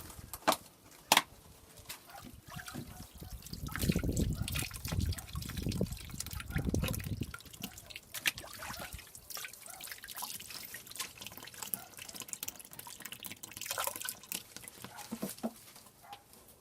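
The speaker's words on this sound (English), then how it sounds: "Give the O-ring a quick wash." A water filter O-ring rinsed under a running tap, with splashing and dripping over a sink and a stronger gush of water in the middle, scattered clicks and taps of handling around it.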